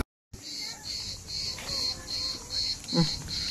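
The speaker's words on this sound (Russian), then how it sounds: "Цикады поют." Cicadas sing in a steady, pulsing high-pitched drone around a resort in Tekirova, with a faint voice and some movement underneath.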